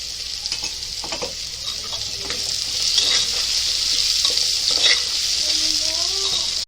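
Onions frying with salt in a pan, a loud continuous sizzle with occasional spoon clinks and stirring scrapes through it.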